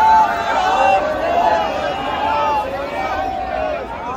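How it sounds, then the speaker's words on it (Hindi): Dense crowd gathered at the entrance gate of Ram Mandir in Ayodhya, a steady close hubbub of many voices with chatter and calls rising and falling throughout. "यहाँ पे भी बहुत भीड़"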